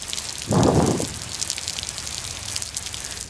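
Water splashes onto plants from a watering action in the video game I Am Cat VR, a single short gushing pour lasting about half a second amid faint background sounds.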